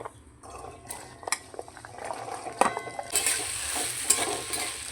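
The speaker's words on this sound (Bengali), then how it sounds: "তেল গরম হয়ে গেছে আলুগুলো প্রথমে ভেজে নেব" Diced potatoes sizzle in hot oil for a Bengali fig curry, the frying building steadily louder with sharp crackles and a few spatula scrapes and clinks against the pan.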